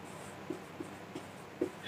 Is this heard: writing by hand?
yes